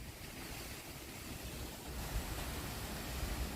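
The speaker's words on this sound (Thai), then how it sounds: "ดูลมแรงมากเลยตรงนั้น" Strong storm wind at night blows steadily as a broad, rough roar close to the microphone, buffeting it harder in the second half, with no voices.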